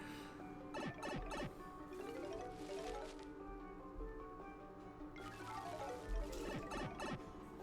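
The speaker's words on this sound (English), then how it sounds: "I was moving some of those Switch cartridges." Small plastic Nintendo Switch game cartridges clatter and rattle in a few short bursts, close by and fairly quiet, over faint game-like background sounds.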